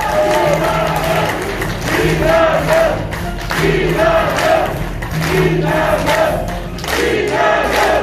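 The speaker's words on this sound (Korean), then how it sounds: "큰 박수 부탁드립니다." A large audience cheers and claps at a political forum launch event in a convention hall in Gumi, Gyeongbuk, with loud crowd noise rising and falling in swells and shouts mixed in.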